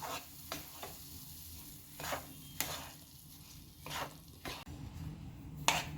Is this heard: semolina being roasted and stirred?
yes